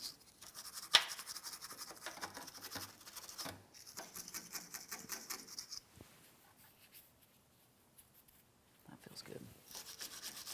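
A rag or brush scrubs the sway bar and frame on a 2007–2014 GMC Sierra 2500 HD truck, close rubbing strokes with a brief sharp knock early, then fading to near silence before a final few rubs.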